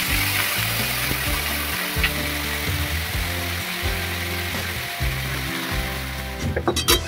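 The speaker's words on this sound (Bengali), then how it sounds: "সবজিগুলো ভালো করে ভাজা হয়ে গেছে," Cut vegetables fry steadily in a pan with oil and a dried chilli for Bengali dudh shukto, a loud continuous close sizzle with a faint hum underneath and a few clatters at the end.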